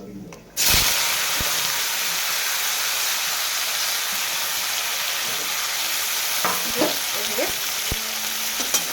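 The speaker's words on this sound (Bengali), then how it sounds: "আমি আম মেখানো মাছটাকে দিয়ে দেবো" Mango-marinated fish fries in oil that already holds five-spice-fried chilli, with a loud steady sizzle and hiss starting abruptly after a moment of quiet and running on, marked by a few clinks of stirring near the end.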